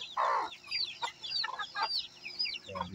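A Silky hen clucks softly near her two chicks, with low clucks mixed with the chicks' repeated high, thin peeping, close and fairly quiet.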